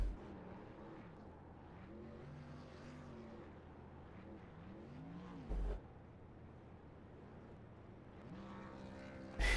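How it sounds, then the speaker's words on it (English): Race truck in a NASCAR-style video game at Daytona doing burnouts, engine tones rising and falling in repeated revving sweeps, fairly quiet and steady without talking. "As he does his burnouts."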